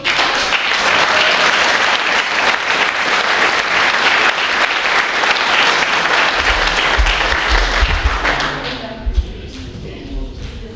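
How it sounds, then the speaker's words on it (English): Awards ceremony audience gives loud, sustained applause, a dense roar of clapping that thins and tapers toward the end as a few low thumps and scattered claps remain. "Where's your applause? One more time, please."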